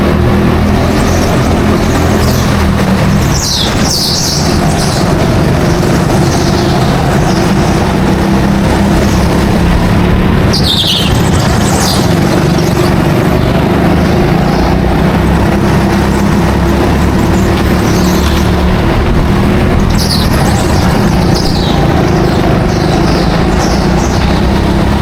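Go-kart engines racing around an indoor track, a steady loud drone of several small motors buzzing and whining together, with occasional higher squeals rising over the continuous roar.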